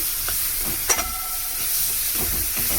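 Water is poured into a pan of spice paste that has been fried until the oil separates, setting off a steady hiss and sizzle with a brief louder burst near the start, close by and with no talking.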